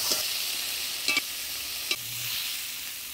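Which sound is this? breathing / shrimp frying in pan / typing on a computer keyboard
shrimp frying in pan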